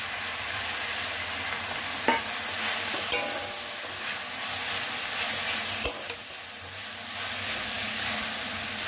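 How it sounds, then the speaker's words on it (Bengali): Spinach being stirred into vegetables frying in a pan, a constant soft sizzle with occasional spatula knocks and scrapes against the metal, close and without talking. "পালং শাকটা মিশিয়ে নিচ্ছি।"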